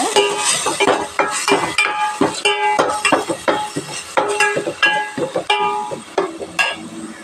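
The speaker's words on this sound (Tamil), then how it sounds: "அரைச்ச விழுதை நான் இதில் சேர்த்திக்கிறேன். நல்லா வதக்கிக்கலாங்க." Ground spice paste sizzles in a hot pan for Salem chicken gravy while a spoon stirs and scrapes steadily, with repeated metallic clinks against the pan, close up and without voices.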